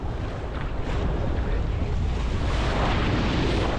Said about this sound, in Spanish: Las olas son muy suaves, nada que ver con lo de ayer